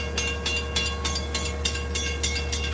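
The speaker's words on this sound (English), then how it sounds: "the Port Jeff train is coming." A Port Jeff train rolls in, its cars passing with a regular rhythmic clatter of wheels over rail joints, repeating bursts over a low steady rumble, fairly close, with no talking.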